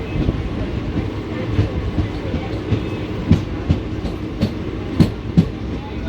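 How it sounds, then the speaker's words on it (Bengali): Teesta Torsa Express, train 13141, pulling out of Khagraghat Road station, with a steady low rumble of rolling wagons and recurring clickety-clack wheel thumps on the rail joints, close and continuous. "আমাদের ট্রেন খাগড়াঘাট রোড স্টেশন ছেড়ে বেরিয়ে যাচ্ছে"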